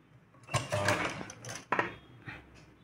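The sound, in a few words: sewing machine stitching tucks into a ruffle sleeve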